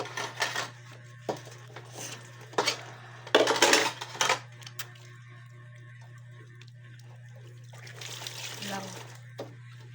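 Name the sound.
washing dishes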